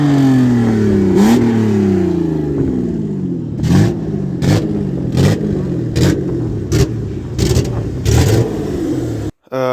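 A BMW M50 engine fitted in a Toyota Starlet runs and revs, its pitch climbing and falling through several throttle blips, loud and close, with sharp bursts of clatter and a sudden cut near the end.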